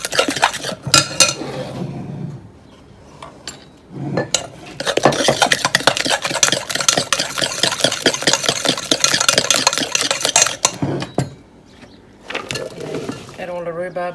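Liquid custard ingredients for rhubarb custard bars are whisked in a bowl, bursts of rapid clinking, sloshing strokes against the bowl separated by pauses where a person talks.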